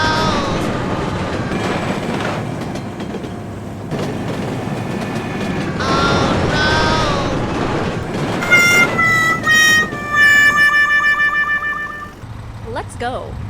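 A train passing with a steady rumble and clatter of rail cars, then a loud bright horn or whistle-like tone sounding in the later part, with voices shouting over it.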